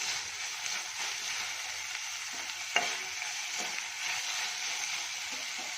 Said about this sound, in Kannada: ಮೀಡಿಯಮ್ ಫ್ಲೇಮಲ್ಲಿಟ್ಟು ಚೆನ್ನಾಗಿ ಕರಿಯೋಗೆ ಇಡಬೇಕು.